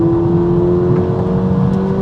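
A Volkswagen Polo GTI's engine pulls hard under acceleration, heard from the cabin as a loud, steady droning hum with a rising tone.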